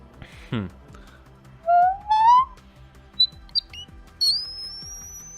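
Several short, piercing whistle-register vocal notes sweep upward, very high and clear, reaching about F sharp in the 8th octave, separated by brief pauses over faint background clatter.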